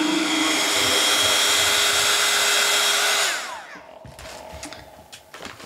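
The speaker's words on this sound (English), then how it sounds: "And then I'll dry them with the heat gun" A heat gun blows a steady loud roaring whir for about three seconds while drying paint on Halloween pumpkins, then cuts off and winds down, leaving faint clicks and handling noises nearby.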